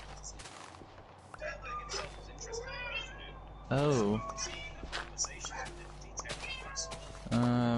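Stray cats meow repeatedly in Minecraft, with several short game-cat cries scattered over background game noise while a person talks.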